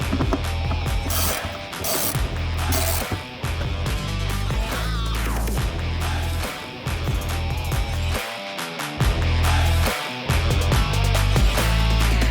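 A ratchet fastens 25mm T30 screws into a Ford Bronco hardtop attach bracket, making a loud, dense, continuous clicking and grinding that runs throughout with brief dips.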